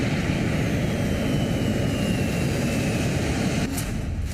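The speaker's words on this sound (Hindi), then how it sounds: "सुखोई 57 हवा का बाजीगर, बेहद आक्रामक हवाई लड़ाका।" A Sukhoi Su-57 fighter jet produces a loud, continuous engine roar, a broad steady rumble that holds at a constant level throughout with no other sounds.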